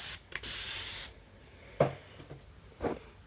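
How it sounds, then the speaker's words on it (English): A hair spray bottle gives a short hissing burst of mist onto type 4 natural hair during detangling, followed by quieter handling taps and rustles. "spray a little bit."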